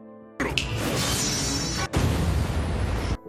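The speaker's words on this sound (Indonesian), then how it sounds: "mendengar ledakan itu" Explosion in an animated fantasy story: a loud broadband blast bursts in suddenly, roars on for about a second and a half, then a second heavy boom follows and rumbles before cutting off abruptly.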